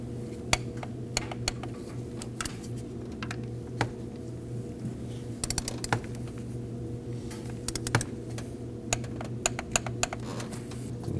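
Torque wrench tightening bolts to 15 foot-pounds while replacing the high pressure fuel pump on a 2009-2014 Ford F-150 3.5L V6, heard as faint, sharp metallic clicks scattered over a steady low hum in a quiet shop.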